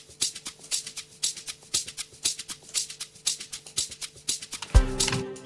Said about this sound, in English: the shakers sound like this.